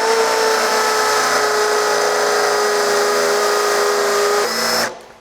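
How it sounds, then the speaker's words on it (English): A compact Metabo HPT DV18DEX 18V cordless hammer drill bores into masonry with a 1/2 inch bit, a loud, steady hammering whine that runs for about five seconds before stopping abruptly. "Now this is a 1/2 inch masonry bit on this small compact drill."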